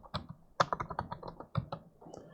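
Close, quiet clatter of keys on a computer keyboard as a command is typed, in quick irregular bursts of clicks with short pauses between them and no talking.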